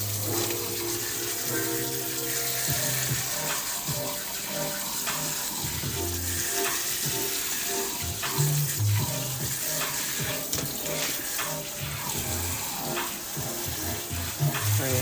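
Tie-dyed fabric rinsed under running tap water, a continuous loud, dense wash of splashing and gushing water that holds steady throughout, close by.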